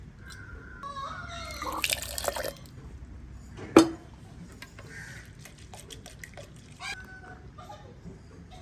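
Dosa batter being mixed with salt and water: faint wet sloshing and dripping with scattered small splashes and one louder splash midway, close and quiet.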